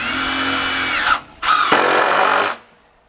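A power drill drives screws into a wooden log box, two loud, sustained whirring bursts separated by a brief pause, close to the listener with no talking.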